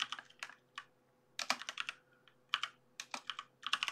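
Quick bursts of computer keyboard typing while entering a chat command in the game SA:MP, with clustered keystrokes and short pauses, fairly close and moderately quiet, with no talking.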